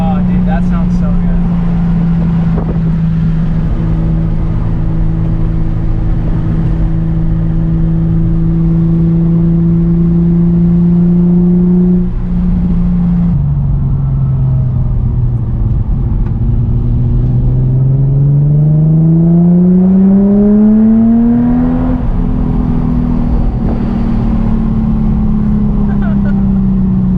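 A Nissan 350Z with a full titanium exhaust revs loudly and up close, its engine note climbing, dropping and sweeping back up several times as a steady rumble continues underneath.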